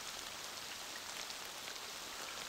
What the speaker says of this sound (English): I've just noticed it's sleeting.